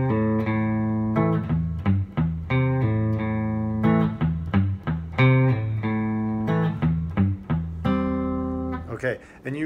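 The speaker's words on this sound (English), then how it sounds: "if we're gonna do it like I play it in the song with a bit more of a chicken picking attitude to it" Electric guitar played in a chicken pickin' rhythm pattern with muted notes on the low sixth string: a steady run of short, snappy plucked notes and twangy chords, close and clear, with a brief flurry at the end.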